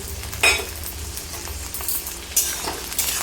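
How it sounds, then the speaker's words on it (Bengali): Potatoes with onion fried in a pan for a vegetable curry with drumsticks and eggplant give a steady close sizzle, with a few stirring scrapes and light clinks of a utensil against the pan. "আলুটা দিয়ে আমি কিছুক্ষণ ভাজা করে নেব"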